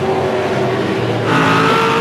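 Race cars at the 2007 Bathurst 1000 roar past on track, a loud, sustained engine drone that climbs in pitch and intensity toward the end as the field accelerates, heard close with no talking.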